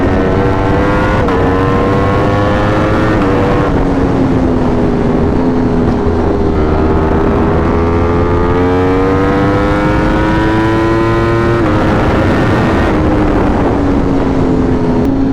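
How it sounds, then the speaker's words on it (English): A naked motorcycle accelerating hard at high speed in fourth gear, its engine whine climbing in pitch through repeated gear pulls under loud, constant wind roar close to the rider. "A naked motorcycle has no business being this fast."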